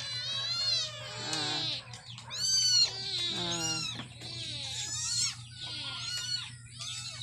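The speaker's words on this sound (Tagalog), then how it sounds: "Ayan yung mga pusa." Several hungry cats meow insistently near a cooking pot, overlapping yowls and cries rising and falling in quick succession, loud and close over a steady low hum.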